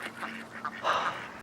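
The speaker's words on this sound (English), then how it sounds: "Ducks on the lake." Ducks quacking on a lake, a few short nasal calls clustering near the end, fairly close and moderately loud over a steady low background hum.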